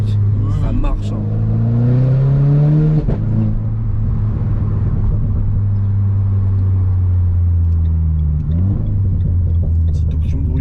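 A Renault Clio 4 RS engine rumbles at close range and revs up in a rising sweep, then holds a steady, throaty drone with a second blip near the end, while someone talks over it.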